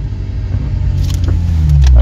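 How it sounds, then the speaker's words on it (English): A manual car pulls away in first gear, its engine revving up in a steady, rising rumble that grows louder toward the end, heard close from inside the cabin. "Accelerate a little bit. Yeah, good revs."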